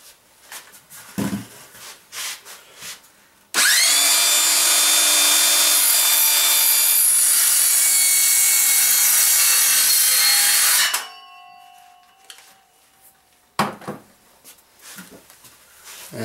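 A power saw cuts through wood for a handmade ammo box, one loud continuous run of about seven seconds with a steady high whine, then spinning down, with quieter shop handling noises before and after.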